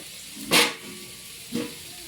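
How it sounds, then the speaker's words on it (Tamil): Sliced onions sautéing in oil with a pinch of salt, heard as steady background hiss broken by two brief louder bursts of sizzle about a second apart, with no talking. "வெங்காயத்தை நல்லா வதக்கிக்கலாம்"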